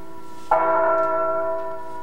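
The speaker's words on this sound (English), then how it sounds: "The bell invites me." A single bell toll strikes suddenly and rings on with a rich, steady sustained hum that slowly fades, heard alone in a quiet setting during a stage production of Macbeth.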